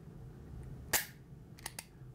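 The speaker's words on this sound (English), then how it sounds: "when you pull this trigger to the rear" A pistol dry-fired with the trigger pulled to the rear gives one sharp, close mechanical snap, followed by two faint lighter clicks in an otherwise quiet room.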